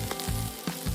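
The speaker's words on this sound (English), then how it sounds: "He then took a piece of the boar's fat and started frying it to extract all." Boar fat fries in a pan, giving a steady sizzle broken by several sharper crackling surges, at low overall loudness.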